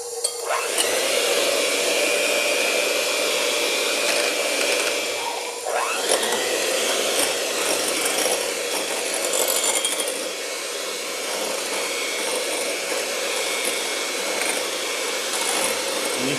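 An electric mixer whirs continuously at close range as it beats egg whites for Italian cookies, with a steady high-pitched motor drone that briefly dips and shifts around the middle before settling back to a constant whine.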